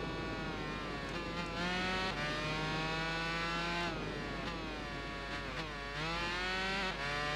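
Yamaha racing motorcycle engine in the Tourist Trophy video game, a high-pitched whine climbing and dropping through gear shifts and corners, steady and continuous without voices.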